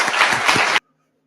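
An audience bursts into dense, loud applause for about a second before it cuts off abruptly to silence.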